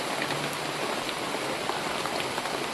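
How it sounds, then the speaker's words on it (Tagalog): Heavy rain pours in a dense, unbroken hiss, loud and close, with no voices over it. "Napakalakas ng ulan."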